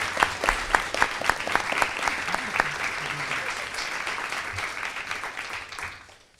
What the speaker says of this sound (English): could you please join me in giving them another round of applause?